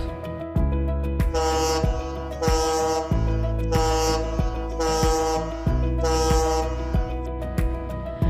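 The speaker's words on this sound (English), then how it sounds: "Sound horn for vessel in doubt." Five long, loud blasts of a deep ship's horn, the signal for a vessel in doubt, evenly spaced with short pauses, ringing in a steady rhythm.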